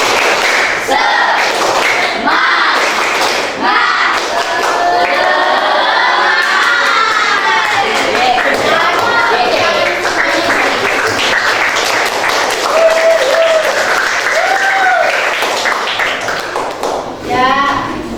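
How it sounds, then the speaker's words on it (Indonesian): Schoolchildren in a classroom perform a rhythmic spirit clap, sharp patterned claps and thumps mixed with excited shouting and a teacher's voice over the noise. "Oh, tepuk semangat."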